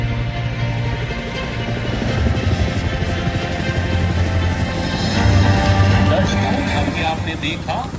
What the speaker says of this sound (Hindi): आपने देखा भारतीय वायुसेना का शिनुक हेलीकॉप्टर भारतीय थल सेना की M777 तोप को ले जाते हुए